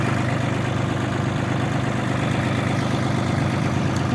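ISEKI TU160 compact tractor idling steadily while its rear three-point hitch is raised and lowered, a constant low engine drone with even vibration throughout and no talking.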